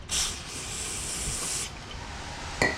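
An aerosol can of brake cleaner sprays in a motorcycle workshop, a steady close hiss of about a second and a half, followed by a quieter lull and a short final spurt.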